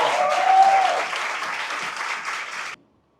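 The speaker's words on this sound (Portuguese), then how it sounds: "Aplauda o Senhor, glorifique o nome do Senhor." Church congregation clapping in praise during a Sunday service, a lively burst of many hands that gradually eases before cutting off abruptly into silence.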